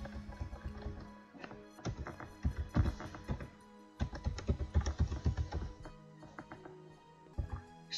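Login details are typed on a computer keyboard in quick, irregular bursts of close, crisp key clicks separated by short pauses.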